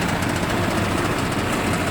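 A Kubota GT5 Japanese four-wheel-drive mini tractor with front loader and tiller runs its engine in a loud, steady, close-up drone with a constant rattling throb and no pauses.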